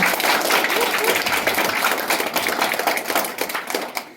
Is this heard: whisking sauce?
no